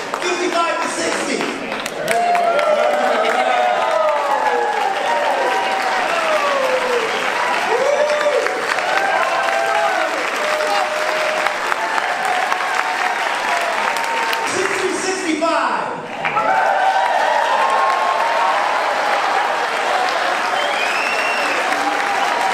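High school alumni crowd cheering and applauding loudly and continuously, with dense clapping and whoops filling the space and only a short dip near the end.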